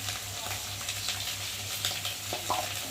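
Chopped tomato, salt and turmeric hit a hot pan and sizzle, a brief, fairly quiet crackling hiss with a few sharper pops over a low background hum.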